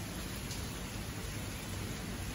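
Heavy morning rain falls steadily in a dark outdoor setting, a dense continuous broadband hiss with no distinct drops or thunder, holding an even level throughout.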